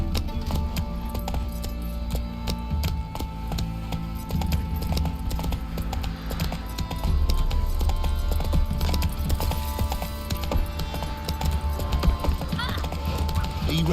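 Roach, a horse in a video game, walks with a steady clip-clop of hooves throughout, joined by light jingling of tack over a busy game soundscape.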